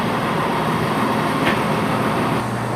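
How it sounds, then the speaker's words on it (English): A train pulls into Leamington Spa station, a 15:25 service to Birmingham Moor Street, heard as a steady, loud low rumble of engine and wheels with broad rail noise and no talking. "And coming in now is the 15:25 service to Birmingham Moor Street."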